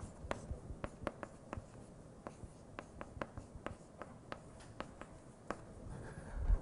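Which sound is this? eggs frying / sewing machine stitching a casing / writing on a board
writing on a board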